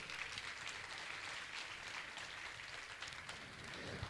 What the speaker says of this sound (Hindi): जोरदार ताली बजाकर का सम्मान करें